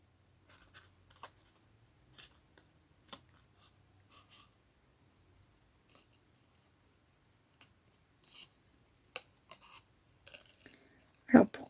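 Pointed scissors snip through thin, delicate paper while a card is made, with faint, sparse clicks and small cuts spread over quiet stretches and one louder snap at the end.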